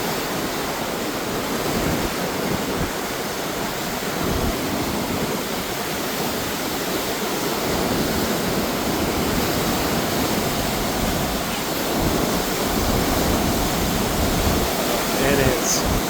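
Water of the St. Louis River at Jay Cooke State Park, Minnesota, rushing below a swinging bridge: a steady, broad roar of flowing water with wind buffeting the microphone, continuous and fairly loud throughout.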